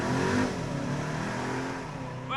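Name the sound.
Skoda Octavia RS exterior engine and turbo sound accelerating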